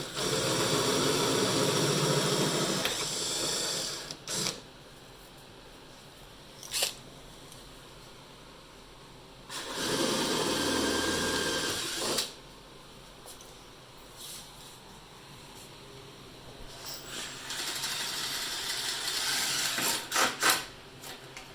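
A power drill bores a larger hole during lighting work on a 1997 Honda Recon 250 ATV. It whirs loudly in long bursts, with short pauses and knocks between runs and a final stretch of grinding and clatter.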